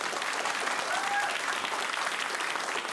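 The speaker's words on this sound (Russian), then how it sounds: "Ваши аплодисменты, дорогие друзья!" Studio audience applause on a TV game show, a dense, steady wash of many hands clapping that holds loud and even throughout, with no voices coming through.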